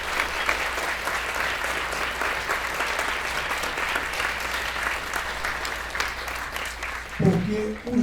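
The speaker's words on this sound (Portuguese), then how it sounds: "uma salva de palmas de todos para o Pesson" Audience applause at a São Paulo screening event for a restored Brazilian classic film, steady dense clapping from a crowd for several seconds, with a voice breaking in near the end.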